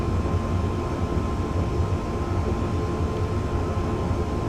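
An APT (Advanced Passenger Train) coasting uphill between Preston and Carlisle in Train Simulator 2018: a constant loud low rumble and rolling noise with a faint steady hum, no talk.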